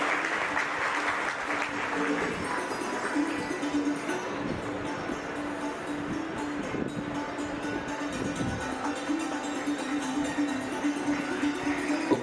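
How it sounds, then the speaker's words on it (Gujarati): An audience applauds steadily for several seconds at a community award ceremony of the Leuva Patidar Samaj gathering in Navsari. The clapping carries under a faint steady hum and is broken by brief speech. "તાળીઓથી સન્માનવા વિનંતી."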